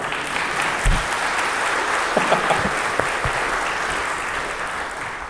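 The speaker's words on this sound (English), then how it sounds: "Yes, let's clap." An audience at a church service claps in sustained, dense applause that holds steady across the whole stretch, with a few low thumps mixed in and no speaking.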